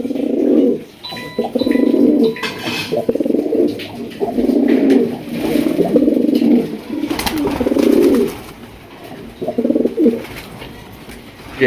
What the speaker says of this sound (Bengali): পাগলের খেলা আর ডাকটা শোনেন